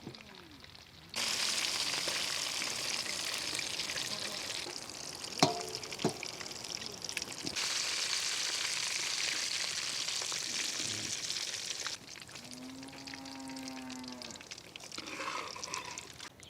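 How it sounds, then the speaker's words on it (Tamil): Chicken frying in hot oil, a steady bright sizzle that starts abruptly, runs loud and close, drops away briefly, then returns alongside clinks and a short liquid pour toward the end, with no talking. "சிக்கன் பொரிச்சு எடுத்தாச்சு."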